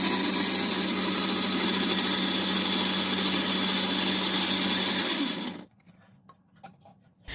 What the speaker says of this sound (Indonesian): Ini di blender sampai halus.